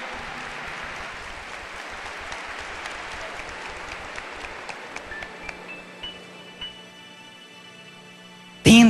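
An audience claps during an outdoor Catholic Mass at a youth camp, dense applause fading gradually into scattered claps before a sudden loud burst at the very end.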